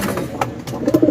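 Racing pigeons coo softly at night in their loft, a steady low murmur of overlapping calls with a few brief flutters or knocks, up close and without talk.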